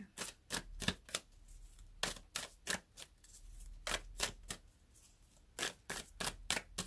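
A deck of oracle cards is shuffled by hand in quick riffling bursts, sharp papery flicks in irregular clusters, close and fairly quiet.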